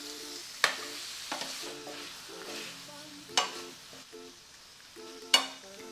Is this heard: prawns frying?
yes